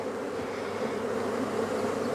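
Around 40,000 honey bees hum loudly and steadily in an open hive, a dense, even buzz close by with no voices.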